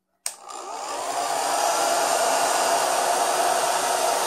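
A hair dryer switches on with a sudden click and blows hot air on a low heat setting, holding a steady, close whooshing roar with no talk over it.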